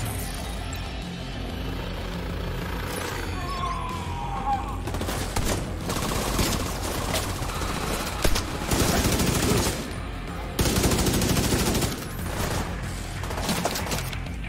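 Sustained automatic bursts from a Police M4 carbine in The Division 2 shooter game, loud rapid fusillades with brief gaps and mechanical clatter.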